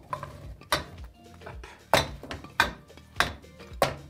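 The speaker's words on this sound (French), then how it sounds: "Nous allons donc mettre nos pommes dans la casserole." Several hard clunks and clatters as apple pieces drop into a metal saucepan, about five sharp knocks spaced unevenly, close and fairly quiet otherwise.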